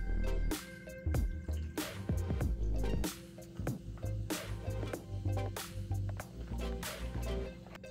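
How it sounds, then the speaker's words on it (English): Ginger beer poured from above into a mug for a Moscow Mule, a bubbly trickling and splashing liquid sound with dripping and fizz, close and moderately loud, without talk. "you want to then top the rest of the mug off with ginger beer"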